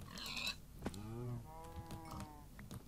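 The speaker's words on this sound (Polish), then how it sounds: "Mu, mu. Dobra, dwie. Dwie krowy." Cows moo in a video game, with a couple of drawn-out lowing calls and shorter bellows, quiet and fairly close, with no speech over them.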